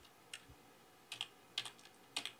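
Quiet bursts of typing on a computer keyboard come in four short clusters of rapid clicks, with silent gaps between them and no voices.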